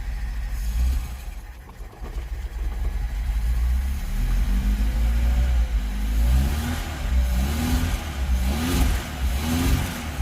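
An old, long-neglected Lada car's carburetted engine runs on fresh fuel, a steady loud rumble that swells in repeated revs close by, with no talking.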